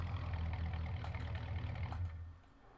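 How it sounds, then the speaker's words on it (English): Truck engine with a worn exhaust in Farming Simulator 19, a low rumbling idle holding steady for a couple of seconds before dropping quieter near the end, with no talk. "Does sound like the exhaust's on its way out though."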